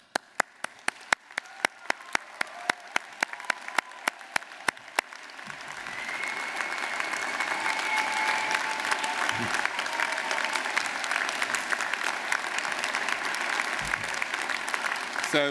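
Graduation ceremony audience at Wimbledon College of Arts applauding staff: a few sharp, isolated claps at first, then swelling into sustained, dense applause from a large crowd that fills the hall.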